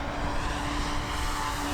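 A Hangar 9 OV-10 Bronco RC plane on a 12S electric setup makes a high-speed pass at full power, a steady loud whining propeller roar held evenly for the brief moment.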